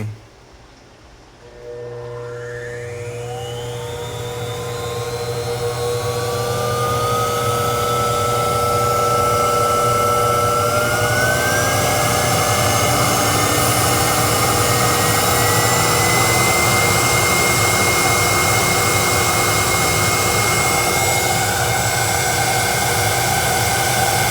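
A pressure test rig building air pressure in a stucco wall chamber for leak detection, a continuous loud rushing hiss with a whine that rises steadily in pitch and then holds, after a brief quiet start.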